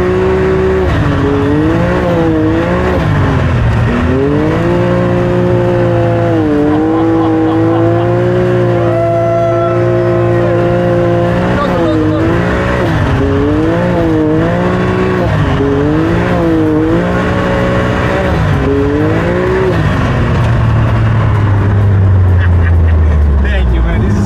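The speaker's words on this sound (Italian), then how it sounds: "Chiodate, beccheggio e rollio di quelli proprio da auto da rally, velocità assurde, 120-130 km orari sul ghiaccio." Audi RS3 with 450 hp on studded tires driving fast on ice at 120-130 km/h, its engine loud and close, rising and falling through repeated revs and gear changes, ending in a long falling pitch as it slows.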